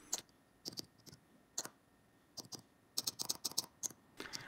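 Clicks from a homemade text input device built with an Arduino and OLED display as text is typed on it, close and quiet, irregular bursts of sharp taps with short pauses and a quick flurry near the end.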